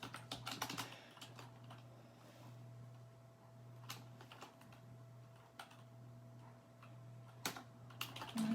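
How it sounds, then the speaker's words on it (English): Quiet, close keyboard typing as a message is entered on a computer, with irregular bursts of key clicks and pauses over a faint steady electrical hum. "I'm going to type a message"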